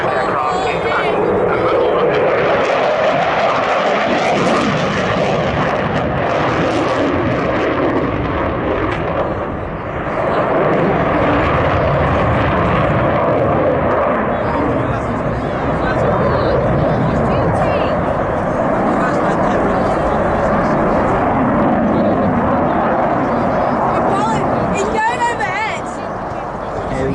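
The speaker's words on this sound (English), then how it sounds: "this is being flown by Flight Lieutenant David Turnbull, whose call sign is Turbo" An RAF Typhoon fighter flies a display at Cosford Airshow, a continuous loud jet roar that fills the whole stretch while a commentator talks over it and the crowd murmurs.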